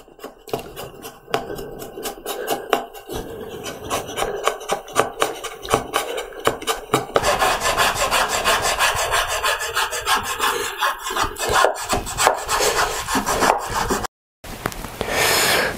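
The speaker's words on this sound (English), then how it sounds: "I'm going to keep coming at this with finer and finer files until I get a really nice, smooth, clean surface all the way down and through the mouth" Hand files rasp across the wooden mouth of a low angle jointer plane in quick, rhythmic back-and-forth strokes, close and loud, the strokes turning to a denser, steadier scraping partway through, with a brief pause near the end.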